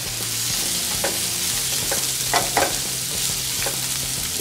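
Chilli chicken ingredients being fried in a pan, with a dense, steady sizzle and a few soft stirring scrapes close by.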